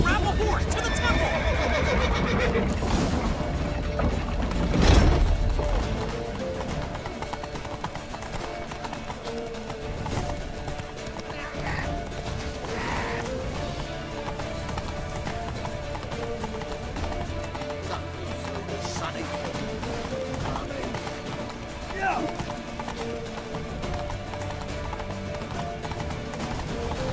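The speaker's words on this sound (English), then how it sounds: "Grab a horse to the temple!" Hooves clip-clop in a quick galloping rhythm while horses neigh now and then in The Witcher 3, with voices talking over the steady pounding.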